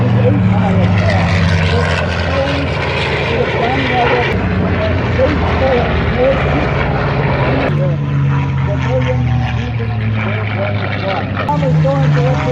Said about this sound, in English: The bombers overhead right to left